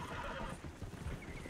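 A horse whinnies loudly and close, with the thud of hooves underneath.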